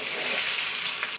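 Tomato and dry red chili chutney stirred into hot tempering oil gives a steady, loud sizzling hiss with faint spoon scrapes, continuous and close, with no voices.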